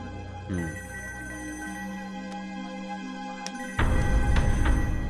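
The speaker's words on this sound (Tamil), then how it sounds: "இந்த நேரத்தில் போலீஸ் ஸ்டேஷனுக்கு ஃபோன் வருது?" Telephone at a police station in a Tamil film scene rings with a steady electronic ring over a constant tonal background, growing louder and busier partway through as the scene's music or ambience swells.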